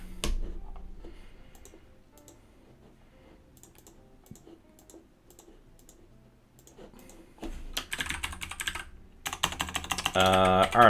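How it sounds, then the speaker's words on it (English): Keystrokes on a computer keyboard while someone enters text into a web development form: scattered, fairly quiet clicks at first, then a denser, louder burst of rapid typing near the end. "We're just typing stuff in."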